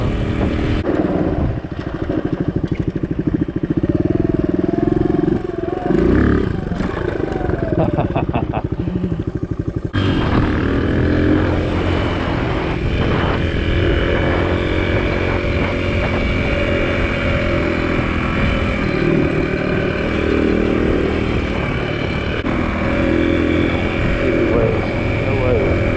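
A 2009 Suzuki DR200 dual-sport motorcycle engine drones steadily while riding, with a shift in pitch partway through, under wind rush and a voice talking.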